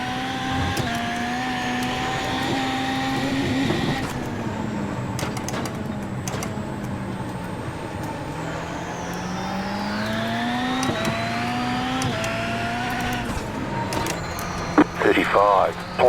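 Rallycross car from iRacing simulation at Daytona, engine droning steadily through a fast lap with rising and falling pitch as it shifts and brakes, loud and continuous, with brief sharp bursts near the end.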